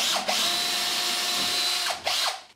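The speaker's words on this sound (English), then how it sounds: "So we're going to start off by drilling the first hole," A power drill bores a 12mm hole into a stud wall for a radiator fixing, whining steadily at close range, with brief dips at the start and near the end as the bit catches and pulls through.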